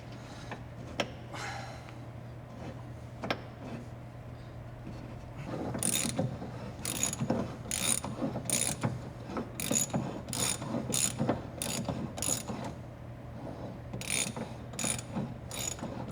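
Mechanical clicking and ratcheting while a corroded front ball joint is worked loose on a 1979 Porsche 928: steady low hum at first, then a run of sharp, closely spaced metallic clicks in bursts, near and fairly loud, no talk.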